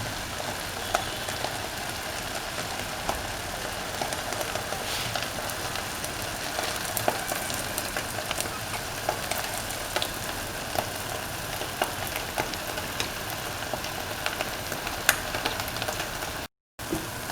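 An omelette simmers in coconut milk stew in a pan with a steady, even sizzle and bubbling that runs throughout, with no voices.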